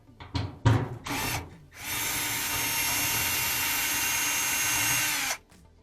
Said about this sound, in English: It's a 5/16 driver.